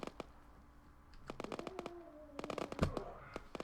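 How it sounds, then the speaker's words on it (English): Several sharp gunshot cracks from a shooting range, some in quick bursts and others spaced apart, sounding at middle distance amid outdoor ambience and a faint tone. "Who is shooting?"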